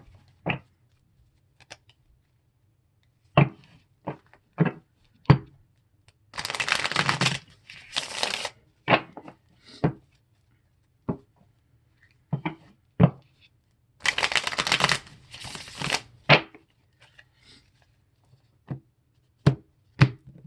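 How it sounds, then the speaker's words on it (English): Tarot cards being shuffled by hand, short riffling bursts alternating with sharp single taps and snaps of the deck, close and clear in a quiet room. "Actually, let me shuffle a little bit."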